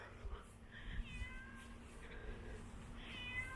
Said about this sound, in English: there's a kitty cat coming for me